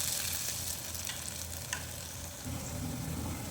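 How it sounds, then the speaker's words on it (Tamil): Flour-coated potato pieces fry in hot oil for a Potato 65 masala fry, a steady close crackling sizzle with brief sharper pops that swells slightly near the end. "ஸோ இதில் எண்ணெய் ஊற்றி ஃப்ரை பண்ணேன்"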